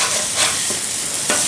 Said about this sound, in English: I like to try to just kind of corral all these onions kind of in there.